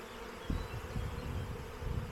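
A honeybee swarm hangs in an apple tree beside an apiary, a dense, low, continuous buzzing drone with bees passing near the microphone, fairly quiet and steady, no voices.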